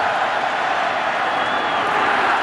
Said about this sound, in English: the crowd here beginning to pump up the volume